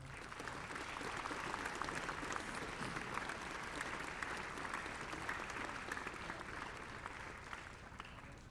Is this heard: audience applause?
yes